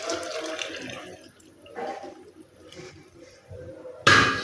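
Hot water pours into a pan of roasted vegetables for masala upma, with soft trickles and a sharp, louder splash near the end, close by and alone.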